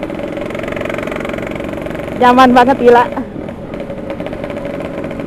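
A modified RX Special motorcycle engine hums steadily at mid revs during a test ride, continuous and close, while a rider speaks briefly over it.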